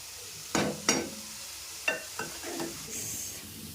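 Several sharp crackles and pops of tempering spices hitting hot oil for dal, with a soft sizzle in between; the bursts come irregularly and close by.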